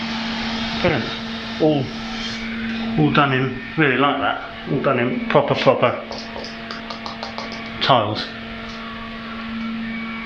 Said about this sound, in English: the extractor fan's going to go on, so you have to excuse the noise